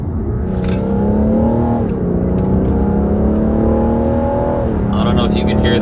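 A BMW 640d Gran Coupe M Sport diesel engine revs up and settles twice, a steady loud drone with rising and falling pitch, heard alone at close range.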